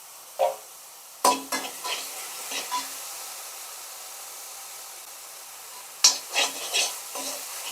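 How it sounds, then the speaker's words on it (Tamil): Onions with a little ginger garlic paste sauté in a pan: clusters of spatula stirring and scraping near the start and again near the end, separated by a quiet stretch of soft sizzle. "அதில் 2 நிமிஷம் வதக்கி விடுங்க"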